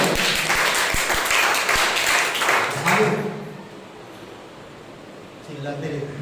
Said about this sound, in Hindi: जोरदार एक ताली बजाए